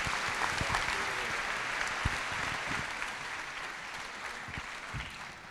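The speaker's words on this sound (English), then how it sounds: "another round of applause" Steady applause from an audience at an evening award ceremony, a dense even wash of clapping heard from some distance and holding at moderate loudness throughout.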